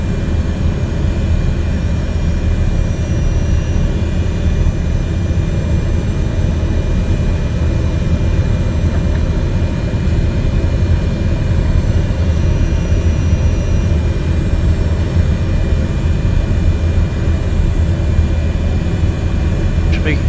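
Jet engines on an airliner taxiing in Microsoft Flight Simulator give a loud, steady low drone that holds unbroken throughout, with a voice speaking over it at times.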